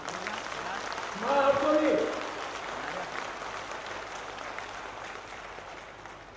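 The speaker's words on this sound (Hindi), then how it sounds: "ये गूंज भोपाल तक जाना चाहिए, ऐसी ताली बनना चाहिए।" Crowd applause at an outdoor political rally in a village in Madhya Pradesh, a short burst of clapping and cheering that rises briefly and then fades under someone speaking through amplification.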